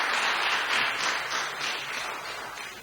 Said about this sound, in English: So if you give a round of applause.